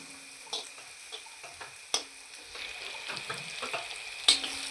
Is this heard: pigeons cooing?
no